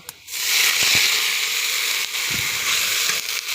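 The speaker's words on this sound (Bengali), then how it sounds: "এখন পানি দিব।" Water poured into a hot frying pan of browned onions, garlic and spices bursts into a loud, steady hiss and sizzle that holds for about three seconds, close and without speech.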